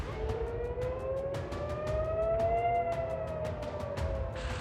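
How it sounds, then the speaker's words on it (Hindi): Air raid siren wailing across Bat Yam, Israel during a rocket attack, a loud rising and falling tone sounding continuously over low background rumble. "रॉकेट शहर में गिरे, जिसके बाद पूरे शहर में सायरन बज उठा।"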